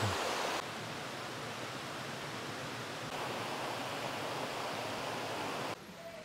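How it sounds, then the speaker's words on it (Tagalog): Steady rushing water of a river stream flowing down from Batlag Falls, a loud, continuous broadband roar that holds constant throughout with only slight shifts in level and no voices. "ito na yung sa ilog na galing doon sa falls"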